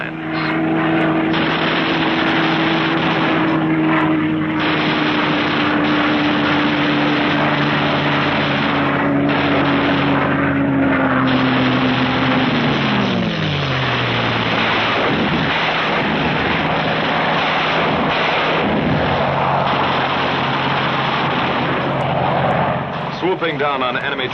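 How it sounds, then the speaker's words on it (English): WWII fighter planes at full speed roar loudly and continuously, an engine pitch sliding downward as one passes, under a narrator's voice in a 1945 wartime propaganda film soundtrack. "Skimming along at maximum speed, the fighters pair off and go to work cutting vital Jap lifelines"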